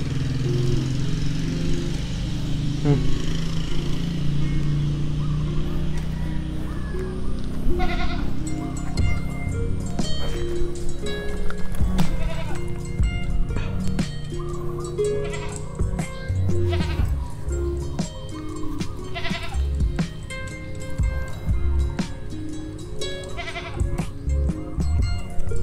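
Goats bleat repeatedly outdoors during a treasure hunt, the calls mixed with steady background noise and music-like tones over the whole stretch.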